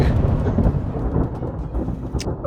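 A thunder sound effect for a fantasy tabletop role-playing scene rumbles with a loud, deep crack and rolling low boom, with crackling bursts near the end suggesting lightning, heard alone without talk.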